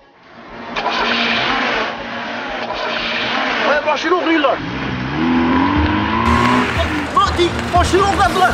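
A car pulls away with tires screeching, the engine revving and rising in pitch as it drives off, loud and close, with shouting voices over it.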